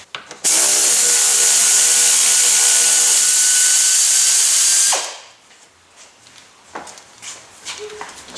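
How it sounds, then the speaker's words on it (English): A power tool whirs loudly and steadily for several seconds while backing out 8 mm bolts from a Nissan Titan radiator, then stops abruptly, followed by faint clicks and handling noises. "we're going to remove two 8 mil bolts here at the top"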